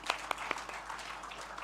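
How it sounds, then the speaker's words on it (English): Brief, thin applause from a small audience after a performance, a few sharp distinct claps standing out at the start before fading into scattered clapping. "Let's give them another clap because they did a great job."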